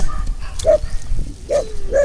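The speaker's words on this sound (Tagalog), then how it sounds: "Daming aso." Several dogs bark and yip in short, high bursts spaced through the moment, fairly close and loud over steady background noise, with faint voices around them.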